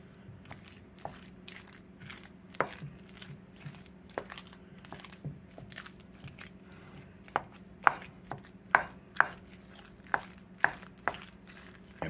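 A spoon mixes oven-roasted potatoes in a dish, making soft, irregular taps and scrapes that grow sharper toward the end, all faint and close with no talking.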